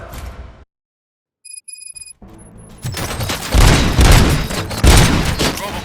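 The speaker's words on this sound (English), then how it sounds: "Gunshots? What's going on?" Gunfire and explosions in the Robocop: Rogue City video game build from a brief near-silence into a loud, dense fusillade of rapid shots and booms that continues to the end.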